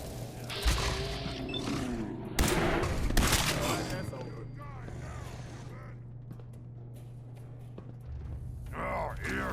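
Gunfire erupts in a firefight in the game Fallout 4: several loud, sharp bursts of shots early on, then a steady low rumble with scattered cracks and game voices speaking over the action.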